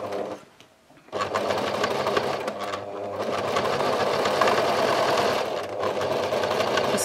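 A sewing machine runs a half-inch seam along the straight handle side of a tea towel tote bag, a steady close whirring hum after a brief pause near the start, continuing alone without talk.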